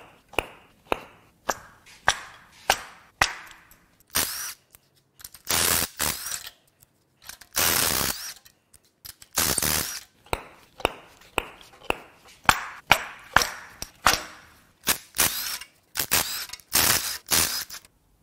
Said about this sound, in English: let's pull the plugs